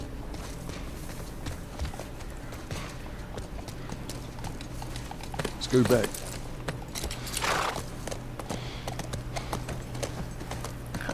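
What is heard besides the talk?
horse hooves clip-clopping, from video game The Last of Us Part I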